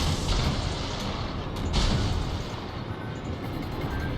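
Torpedo hits and explosions in a World of Warships naval battle: a continuous loud rumble of heavy booms and blasts with no clear gaps, no voices.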